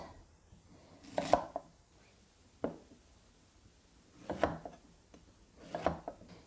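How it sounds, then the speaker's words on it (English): Knife chopping through roasted beets, carrots and sweet potatoes into half-inch slices on a board: about five separate thuds spaced irregularly, close and fairly quiet with no talk. "So now I'm just going to slice about 1/2-inch slices."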